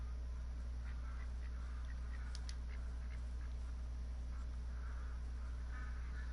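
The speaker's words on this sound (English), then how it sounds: "I don't know if you can hear them ducks in the background" Ducks in a hunting video game quack faintly in the background of a steady low hum, a few brief calls scattered across the ambience with no one talking.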